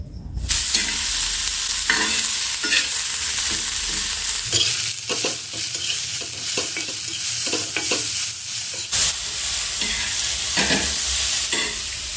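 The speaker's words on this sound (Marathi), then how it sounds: "कांदा टोमॅटो तेलामध्ये छान असा फ्राय करून घेतला" Steady loud sizzling of onion and tomato frying in hot oil, with repeated scraping and stirring sounds throughout, no voices.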